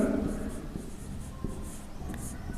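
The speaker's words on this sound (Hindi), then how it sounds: "तो लिखेंगे समीकरण" Chalk or marker writing an equation on a board in a physics lecture, faint scratchy strokes and taps in a quiet room, with a voice speaking softly at the start.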